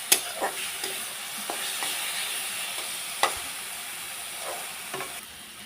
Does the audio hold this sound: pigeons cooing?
no